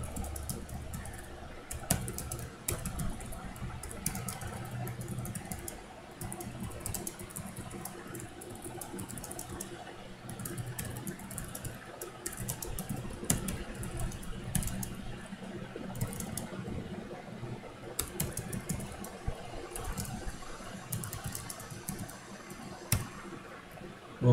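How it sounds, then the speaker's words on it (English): Fingers type on a computer keyboard in quick irregular bursts of soft clicks while a post is written, with no talk and a low room hiss under the keys. "and let's type some more."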